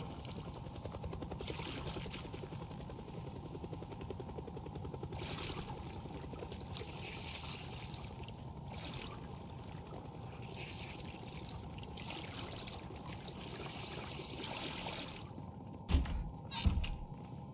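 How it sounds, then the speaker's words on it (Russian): A character urinating into a toilet in the Project Zomboid video game, heard as a steady liquid trickle that runs evenly for most of the stretch, ending in a few short thumps near the end. "быстрее ссы в унитаз"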